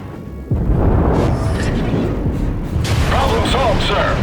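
Naval guns firing armour-piercing shells in World of Warships, with a sudden heavy boom followed by a sustained low rumble and a voice speaking over the sound.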